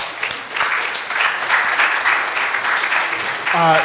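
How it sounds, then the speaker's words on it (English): Parents and students at a spring piano recital give a loud, sustained round of applause that fills the room, and a voice begins speaking just as it ends. "So a big round of applause for yourselves as well."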